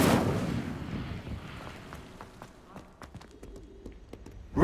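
In Hogwarts Legacy, an Incendio fire spell erupts with a sharp, loud burst that quickly decays. Quieter scattered clicks and ambient game sounds follow.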